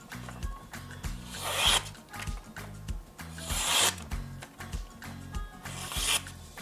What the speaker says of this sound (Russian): Попробуем с торца порезать лист бумаги.